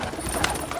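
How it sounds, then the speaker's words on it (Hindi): Pigeons coo softly in a brief, low murmur amid a busy background. "ये आप देखिए जायद भाई कबूतर हैं"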